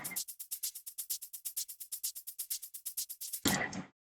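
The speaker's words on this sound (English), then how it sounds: "And then we have here a shaker." Rapid, evenly spaced shaker hits from a song's drop, about seven per second, bright and crisp, steady for several seconds before a burst of wider noise at the end.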